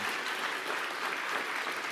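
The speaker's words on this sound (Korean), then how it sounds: "우리 이분들을 위해서 뜨겁게 환영의 박수 해드리겠습니다" Steady, dense applause from a church autumn concert audience welcoming first-time guests, many hands clapping continuously at an even level with no pauses.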